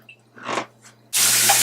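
Water is poured into a pot for ginger tea, about one and a half cups. After a few quiet seconds of faint handling noise, a loud, steady rush of pouring water starts and runs to the end.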